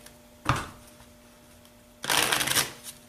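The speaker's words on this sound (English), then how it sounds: "after a legacy shuffle like that, go ahead and do a butterfly bridge" Magic: The Gathering cards riffled in a butterfly bridge shuffle, two quick bursts of crisp, close flutter, the second longer and louder, with quiet pauses between.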